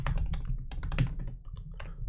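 Quick, irregular keystrokes on a computer keyboard, close and steady, as a medical genetics answer is typed into a flashcard app; no one speaks.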